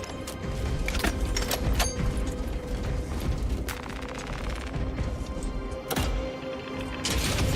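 Weapon reload mechanism in the video game Warhammer 40,000: Space Marine 2, heard as loud metallic clacks and ratcheting over dense, continuous battle noise and gunfire, with sharp clicks near the second and sixth seconds.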